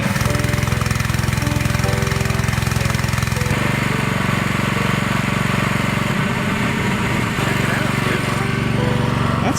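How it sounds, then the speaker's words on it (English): A gas-engine pressure washer runs loud and steady, its jet blasting rust out of a rusty gas tank with a constant roaring hiss and small shifts in tone as the spray moves. "We pressure washed the tank, which really got it pretty darn clean"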